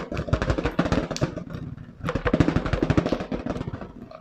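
Rapid, dense rattling of conkers rolling and bouncing inside an inflated balloon, in two long rumbling bursts separated by a brief pause, sounding like thunder.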